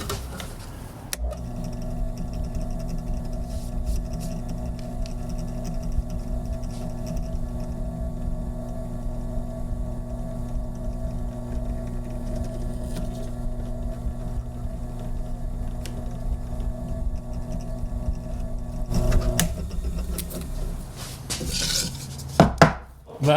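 A small drill bores 1/8-inch eyelet holes through a circuit template card, a steady whirring hum that holds for about twenty seconds before ending in a brief burst of clattering handling noise.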